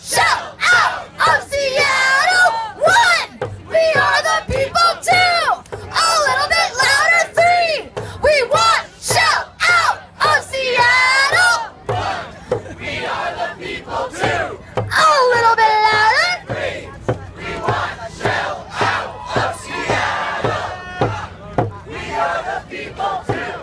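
A large protest crowd in Seattle chants a rhythmic anti-Shell slogan in loud, repeated call-and-response bursts, with shouting voices and cheers swelling between lines, heard close and continuous throughout.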